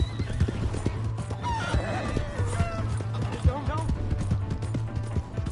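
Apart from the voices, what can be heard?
horse neighing and galloping in video game Red Dead Redemption 2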